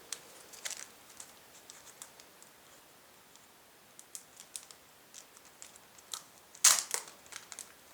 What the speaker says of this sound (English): another little plastic bag inside to open